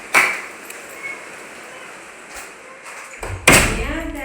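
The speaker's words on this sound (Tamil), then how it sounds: "கதவை சாத்து, கதவை சாத்து, குளிரும்." A door is shut during a rainy evening at home, with a sharp knock near the start, a quiet stretch of rain-like hiss, and a louder thud as it closes near the end.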